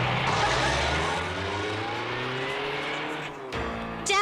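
A car in an Indian comedy scene, said to have no brakes, pulls away with a rising engine hum and a tire squeal near the end, heard close with no talk over it.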